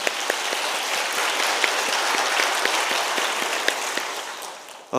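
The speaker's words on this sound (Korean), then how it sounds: "감사의 박수하겠습니다" Applause from a church congregation at a Korean Wednesday worship service, a steady wash of clapping with individual claps popping out, continuing for several seconds before fading near the end.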